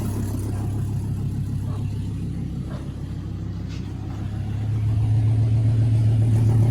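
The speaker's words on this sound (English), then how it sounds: "Well, it does a burnout." A Dodge V10 truck doing a burnout rumbles steadily at low pitch, its engine note swelling louder and rougher near the end as it revs harder.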